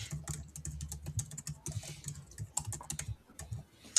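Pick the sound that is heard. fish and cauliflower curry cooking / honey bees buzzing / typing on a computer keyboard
typing on a computer keyboard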